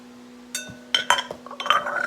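Spoon clinking against a bowl while crushed pineapple is stirred in, a few bright metallic taps and scrapes in quick irregular succession, close and fairly quiet over a faint steady hum.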